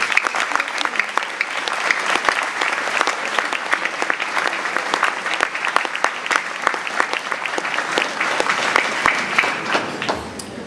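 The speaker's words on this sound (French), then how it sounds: "Et puis je vous remercie de ces applaudissements et de cette distinction." Sustained applause from an audience honouring a citizen at a New Year's wishes ceremony in Athis-Mons, steady dense clapping that carries on evenly for about ten seconds and then tapers off at the very end.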